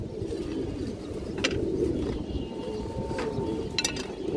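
Pigeons from a mated breeding pair coo in soft low murmurs against steady background noise, with a few brief sharper calls standing out.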